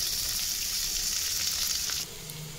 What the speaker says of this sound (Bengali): এবার বেগুন আর আলুটা একসাথে দিয়ে দেবো।